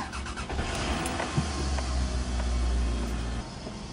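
Toyota RAV4 engine turning over and catching, settling into a steady close idle hum for several seconds with no talk over it.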